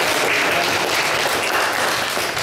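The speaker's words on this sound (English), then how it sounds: "I would like to applaud Alexandra." Dense, steady applause fills a Toastmasters-style club meeting room, with many hands clapping close by, continuous and loud with no talk on top.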